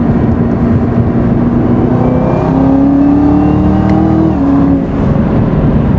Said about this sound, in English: That doesn't sound like the sound is coming through the speakers, huh? It's like just pure exhaust